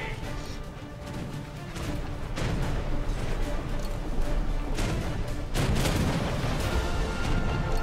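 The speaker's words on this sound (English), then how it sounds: "I'm firing in blind!" Starboard cannons on a pirate ship in a game fire in a rapid series of heavy booms and crashes over a loud rumbling battle din, while a voice talks underneath.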